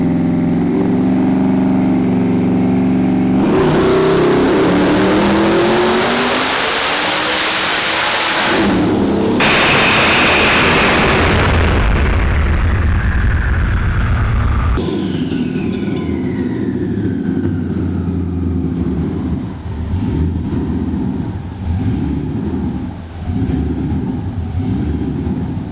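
A boosted street car roars through a loud dyno pull, engine pitch climbing steadily before a sudden blast as the charge pipe pops off, followed by rushing air and a rougher, pulsing engine note that continues to the end.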